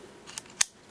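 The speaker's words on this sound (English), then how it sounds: "love the sound it makes when the retracting rod comes back out. Has a nice satisfying click at the very end" Retracting rod of an everyday-carry (EDC) tool snapping back into place, heard as a faint soft click followed by one sharper crisp click, close up and alone.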